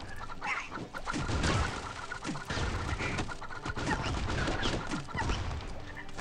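Chickens cluck amid busy Swamp Attack 2 gameplay, their squawks mixed with gunshots and game effects in a dense, noisy stretch.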